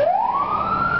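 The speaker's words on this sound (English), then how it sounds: "Ambulance going by." Ambulance siren passing by on the road, a loud rising wail that sweeps upward in pitch and holds strong and close.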